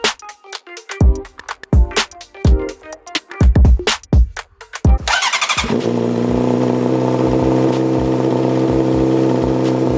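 A 2007 Honda CBR600RR sport bike engine cranks in several short bursts, then catches and settles into a steady, loud idle that runs to the end.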